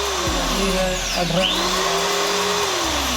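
A Buildskill electric drill machine runs during a test on thick wood, a loud continuous motor whine with a steady hum whose pitch dips and climbs as the load changes, close to the microphone.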